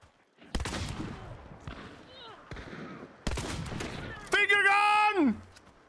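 Gunshots ring out in Hunt: Showdown 1896, a few sharp, loud cracks spaced across the clip, followed by a brief falling tonal effect near the end.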